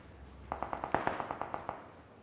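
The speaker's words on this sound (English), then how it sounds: "Gunfire near that red house." Distant gunfire near a red house in a video game, a quick string of about ten evenly spaced shots, faint and far off over quiet ambience.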